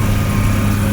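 A folding bush hog mower runs steadily, a loud close engine drone with a buzzy, even tone and no pauses.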